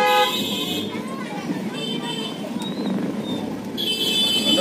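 Car horns honk in a traffic jam outside a DPS school at dismissal time in India. Loud horn blasts open and close the stretch, over a steady roadway rumble, with voices nearby.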